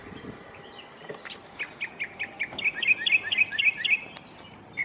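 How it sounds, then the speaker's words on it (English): Songbirds chirp and sing outdoors in a grassy yard, a run of quick, bright repeated tweets that grows denser and louder, over a soft background hush. "The birds are happy."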